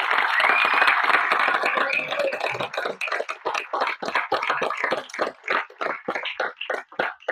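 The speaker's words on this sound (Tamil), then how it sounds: "உங்கள் பெருத்த கரகோஷத்தோடு" An audience at an award ceremony honouring social activists applauds, a dense burst of clapping that thins into scattered, irregular claps dying away toward the end.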